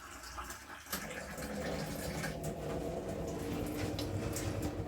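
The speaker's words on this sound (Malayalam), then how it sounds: "വെള്ളം എടുക്കുകയാണ് നമ്മൾ" Water being poured into a basin for aloo pakoda batter, a steady splashing stream running continuously at close range, with brief sharper splashes along the way.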